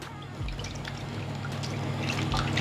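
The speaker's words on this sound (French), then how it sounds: "on a pris un moule que je vais aller rincer tout de suite" A baking mould is rinsed under running water, giving a quiet, close pour and trickle that stays continuous and builds slightly over a few seconds, with no speech.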